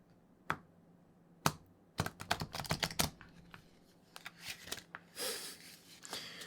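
Quick bursts of crisp, papery riffling and clicks, a few isolated snaps followed by a rapid flurry, then a softer sliding shuffle near the end.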